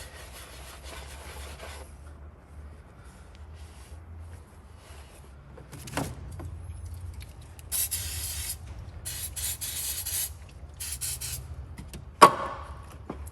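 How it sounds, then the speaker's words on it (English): Rag wiping over car engine parts from a Cruze head gasket job after a spray of WD-40, heard as scattered bursts of close, hissy rubbing over a low hum, ending with a sharp knock. "Just using some WD-40 and just a little bit of a wipe."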